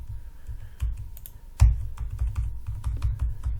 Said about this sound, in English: I'm just like hitting on my computer keyboard